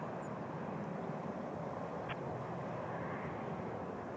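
Embraer jet departing runway 06 left at Toronto Pearson, a steady broadband engine roar holding level throughout, close and loud, with no voices.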